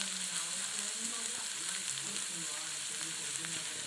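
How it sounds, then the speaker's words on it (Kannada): Ginger and coconut fry in a pan until browned for a fish sambar, a constant close sizzle with faint stirring scrapes running under it. "ಶುಂಠಿ, ಹಾಗೆ ಸ್ವಲ್ಪ ಕಾಯಿ ಎಲ್ಲ ಹಾಕ್ಕೊಂಡು ನೀಟಾಗಿ ಅದು ಬ್ರೌನ್ ಕಲರ್ ಬರೋ ಥರ ನೀಟಾಗಿ ಫ್ರೈ ಮಾಡ್ಕೊಬೇಕು."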